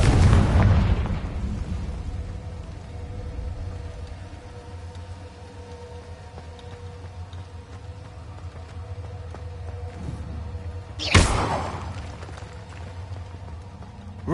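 A spell blast in a game bursts loudly at the start, fades into a low rumbling hum, then a second sharp crack-like impact lands near the end, no voices over it.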